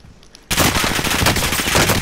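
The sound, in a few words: gunfire in a video game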